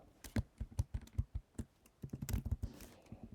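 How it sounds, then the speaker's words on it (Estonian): Keys on a computer keyboard are tapped in quick irregular bursts while moving through a Word document table, producing close, crisp clicks with short pauses between groups. "tab klahviga liikudes ma saan kenasti uusi ridu tekitada"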